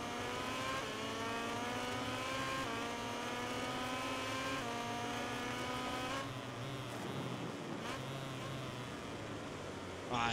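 Motorcycle engine in the MotoGP 18 racing game revving hard under acceleration, its rising harmonic whine climbing steadily and loud, then dropping and shifting near the end with a brief burst.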